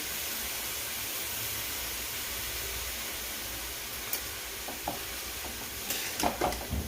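Cabbage curry with moong dal being stirred in a pan, a steady soft sizzle and hiss throughout, with scattered light spoon scrapes and taps near the end and no talking.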